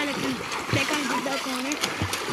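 Boys in a five-way swimming race splash and churn through water, with a steady wash of splashing beneath loud, continuous talk.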